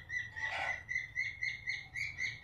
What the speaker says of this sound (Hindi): ये हमारा तोता जो है बहुत ज़्यादा चिल्ला रहा है